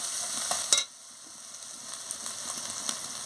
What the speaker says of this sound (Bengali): দিয়ে ভালো করে মশলাটাকে ভেজে নিচ্ছি